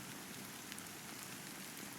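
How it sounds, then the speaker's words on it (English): Steady rain falls in the video game Honkai Star Rail, a soft, even patter on surfaces with faint scattered drops and no voices. "how long has this rain been going on for?"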